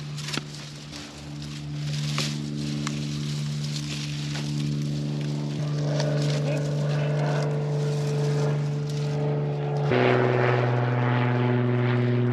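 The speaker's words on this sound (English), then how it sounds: "Airplane." A propeller airplane passes overhead above a tomato garden, its steady droning engine tone holding loud and close, shifting pitch partway through as it moves past.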